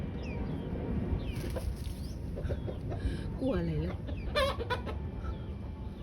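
Chickens cluck and chatter close by at feeding time, with a rooster-like call and several short squawks scattered through the clip, while a person speaks briefly nearby.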